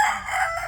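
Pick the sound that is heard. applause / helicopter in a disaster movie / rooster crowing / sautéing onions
rooster crowing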